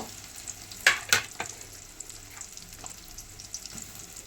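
Chilies and onions frying in a pan at home, a soft continuous sizzle with a few louder clinks and scrapes of stirring near the start, then a quieter crackle.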